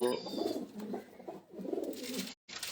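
Pigeons at a pigeon club coo softly in two rounded, throaty phrases, close by, with faint background noise between calls.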